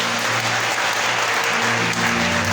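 A church congregation at an evening praise and worship service applauds the Lord in steady, dense, continuous applause that fills a large room, with faint tones from instruments or voices underneath.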